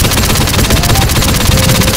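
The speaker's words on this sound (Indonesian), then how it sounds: "Ayo, tembak terus, teman-teman." Gunfire in the video game GTA San Andreas Multiplayer: dense, loud, continuous automatic shooting with rapid overlapping shots filling the whole moment, with no pause.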